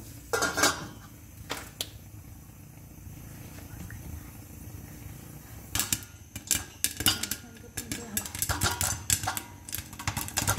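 Popcorn kernels popping inside a covered pot on the stove, sparse sharp pops at first, then a busier cluster of rapid irregular pops and rattles against the lid, close and crisp over a low burner hum.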